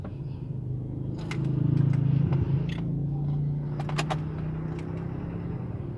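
A 2015 Chevrolet Spark 1.0 engine with manual transmission cranks and catches, then settles into a steady low idle hum, with a few sharp clicks and taps from inside the car, door closed.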